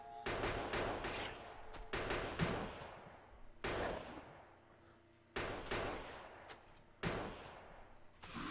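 Sniper turret fire in Factorio: sharp, isolated gunshots, some doubled, spaced across the stretch with short decaying tails, each a loud crack against a quiet background.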